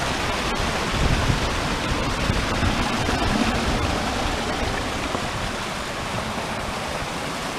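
Loud rushing stream water in the Trap Dike on Mt. Colden, a thick, continuous roar close by that stays steady and unbroken from start to finish with no talking.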